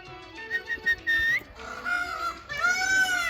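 A peacock sits nearby while a person whistles a few short notes, and the bird answers with loud, drawn-out nasal cries. Whistles and calls trade back and forth, close and clear, with no talk.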